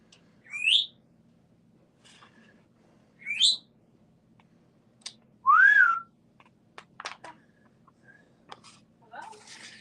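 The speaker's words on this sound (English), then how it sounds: "You guys listen to the bird." A bird sings outside in clear, separate phrases: two rising whistled notes a few seconds apart, then a louder swooping call, followed by fainter chirps and scattered clicks against a quiet low hum.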